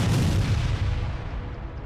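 A heavy, deep explosion as a drone strike destroys a multiple rocket launcher, roaring and rumbling, its booming low end slowly fading over a couple of seconds.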